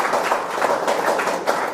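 Audience at a spoken English group debate on India's reservation system clapping together, a dense steady patter of applause throughout.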